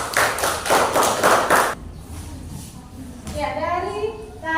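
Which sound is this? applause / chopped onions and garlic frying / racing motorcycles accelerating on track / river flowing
applause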